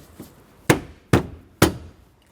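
Plastic clips along the top of a Chevrolet Express van's passenger-side knee panel pushed into their slots; three sharp, close snapping knocks in quick succession with brief gaps between them.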